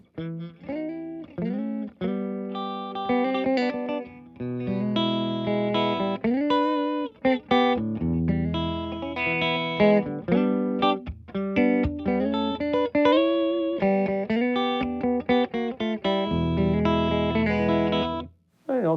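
Electric guitar through a Louis Electric HD12 tweed amplifier, played as a continuous run of chords and single notes with a warm, slightly driven tone, loud and close with brief pauses, no voices.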